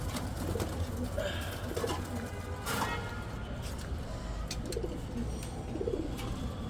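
Pigeons coo softly on a damp rooftop after rain, low rhythmic calls repeating every few seconds under a steady broadband hiss and faint distant traffic.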